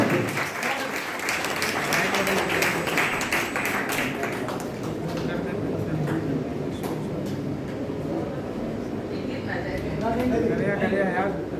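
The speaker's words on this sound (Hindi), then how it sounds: "एक बार प्रतिभा जी के सम्मान में पूरा सदन तालियां बजाए।" A crowd at a Hindi comic poetry gathering claps in honor of the poet Pratibha Mahi, a burst of applause in the first seconds that thins into scattered claps as someone talks over it.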